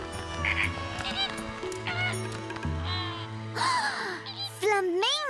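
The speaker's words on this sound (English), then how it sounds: "Flamingos!" Cartoon flamingos honk and squawk in a busy animated scene, several rising and falling calls overlapping music and sound effects, with voices around them.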